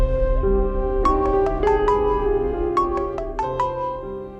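A mobile phone plays a melodic ringtone, a run of bright repeated notes over a steady background music bed in an indoor drama scene, with no talking.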